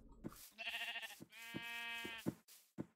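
Several sheep bleat in Minecraft, a run of short wavering calls overlapping one another, close and clear, with brief gaps between bursts and no talking.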